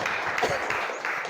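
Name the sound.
applause for group 3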